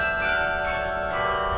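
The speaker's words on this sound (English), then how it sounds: "So a carillon is a keyboard instrument, and it plays bells." Carillon bells ring from a university bell tower, several pitched tones overlapping and sustaining in a continuous, resonant wash that stays fairly steady throughout, with no voices.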